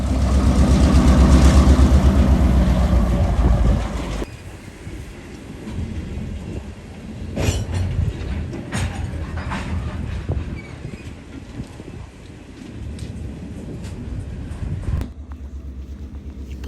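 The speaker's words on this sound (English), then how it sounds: "GP38-2 pulls his cut of cars past the crossover here at 293 and slowly passes by the N&W." A GP38-2 diesel locomotive pulls a cut of freight cars slowly past a railroad crossover. A loud, heavy engine rumble at first gives way to quieter rolling and clanking of the cars, with scattered sharp knocks.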